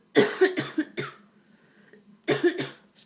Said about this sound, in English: and I'm about to cough.